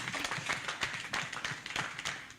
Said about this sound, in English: I think you should have just given Kewasnet and Joan a clap just to appreciate them for that good work